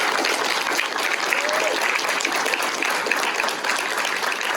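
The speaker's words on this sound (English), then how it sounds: "Let's give them a round of applause." Sustained applause from a graduation audience at an elementary school, thanking the teachers; dense, even clapping fills the whole stretch at steady loudness with no break.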